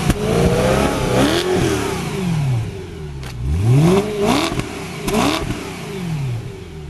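A 2011 BMW M3 is revved with its exhaust open, loud close engine blips rising and falling in pitch several times, with sharp pops between revs and no talking.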